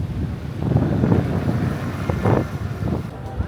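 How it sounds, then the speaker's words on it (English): Wind buffets the microphone in a steady low rumble on a main square in Amsterdam, with gusts swelling and fading. "Well, it's windy."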